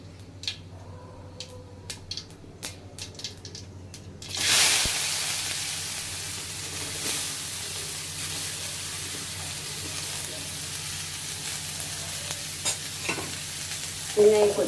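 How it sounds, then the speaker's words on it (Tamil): Fennel seeds and onion sizzle in hot oil in a home kitchen, starting after a few light taps and then frying steadily, loud and close, with stirring scrapes near the end. "சோம்பு பொரியுது பாருங்கள்"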